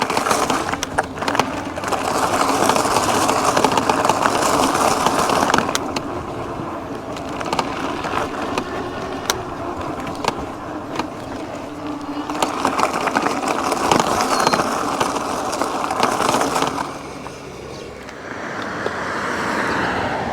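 A Gotrax F1V2 electric bike rolls over gravel, a continuous crunching, rattling roar of tires on loose stones with bumpy surges and a brief dip near the end, close and without talk.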